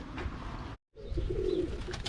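Young roller pigeons cooing outdoors, soft throaty coos close by over low background noise, broken by a brief silent gap in the middle.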